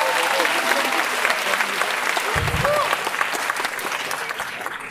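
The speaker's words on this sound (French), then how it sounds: "Donc vous pouvez les applaudir" An audience at a student musical comedy show breaks into sustained, dense clapping that fills the room at a steady level throughout, with a brief low thump partway through.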